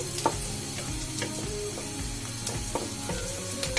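Onion fries in a pan for a village broken-rice khichuri, with a fairly quiet, close sizzle broken by repeated scraping strokes of a spatula stirring.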